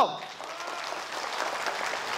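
An audience at a business summit for agricultural entrepreneurs claps together, a dense, even patter of applause that keeps going after a short sharp sound at the start.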